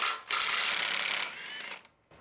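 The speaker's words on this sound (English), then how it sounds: "it's battery operated impact gun" A battery-operated impact gun loosening a 13 mm bolt on a 2024 Chevrolet Colorado ZR2 with the 3.0 Duramax, a close, loud whirring hammer rattle for about a second, then a lower whirring spin-down and brief clicks.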